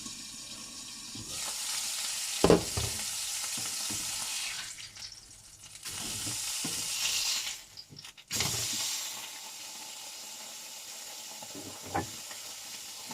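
Burger patty frying in a pan, a bright continuous sizzle that cuts out and resumes several times, with occasional sharp clanks of a utensil against the pan.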